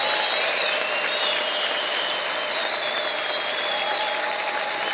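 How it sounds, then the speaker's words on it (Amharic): A church congregation at an Easter service applauds and ululates in praise of God, a continuous, even wash of clapping with high trilling voices rising and falling above it. "ረዘም ያለ ጭብጨባና እልልታ ለእግዚአብሔር ብናደርግ ክብር ለኢየሱስ ክርስቶስ ይሁን።"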